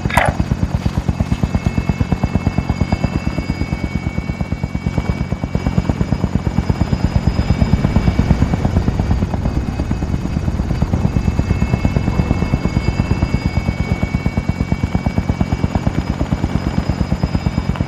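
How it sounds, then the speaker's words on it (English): An extraction helicopter in Call of Duty: Modern Warfare gives a steady, loud rotor thump and engine whine that runs without a break throughout. "Extraction helo is exiting the AO."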